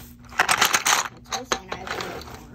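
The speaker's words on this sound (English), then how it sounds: "I'm going to grab my color pencils" Colored pencils clatter and rattle as they are handled, a burst of clicking wooden knocks followed by a few scattered taps and rustles.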